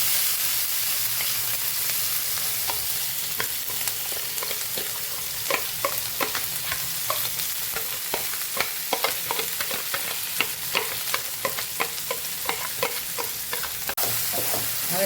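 Chopped ingredients sautéing with asafoetida (hing) in hot oil, a steady close sizzle broken by frequent scraping stirs of a spoon against the pan, no voices.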